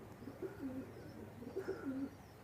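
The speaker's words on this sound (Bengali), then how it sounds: "তো ভিউয়ার্স দেখেন কবুতর জোড়াটা" Pakistani high-flying pigeon pair cooing softly nearby, two short rounded coo phrases about a second apart in a quiet setting.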